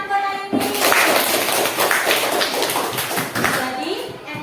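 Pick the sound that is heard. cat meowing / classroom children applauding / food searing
classroom children applauding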